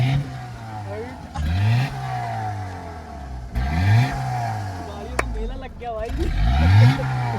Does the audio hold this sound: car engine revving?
yes